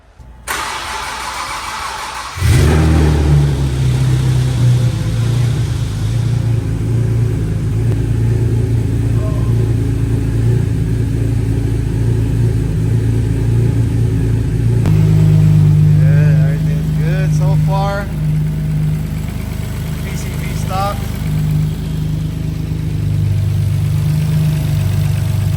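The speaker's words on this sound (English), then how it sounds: "first startup with a brand new built motor" A Nissan car's newly built engine cranks and fires up for its first start, then settles into a loud, steady idle with a deep low rumble that runs throughout, close to the microphone, with people talking over it.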